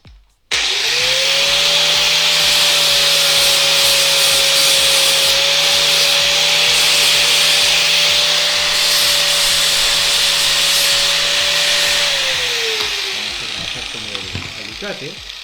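Wooden flower being sanded and shaped by a power tool, a steady loud whining drone with a sustained tone running almost continuously, tapering off near the end.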